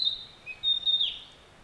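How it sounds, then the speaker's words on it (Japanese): A yellow male songbird at Taishakukyo gorge, Japan, sings a short, high, thin whistled phrase with a few bright notes, faint and somewhat distant against a quiet background. "黄色の姿でさえずりを響かせているのはオス。"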